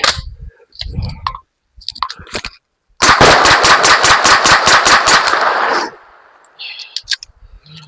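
An MP5 submachine gun fires a rapid, loud sustained burst of standard non-subsonic rounds, roughly a dozen sharp cracks over about three seconds, preceded by metallic handling clicks and followed by a fading tail of noise.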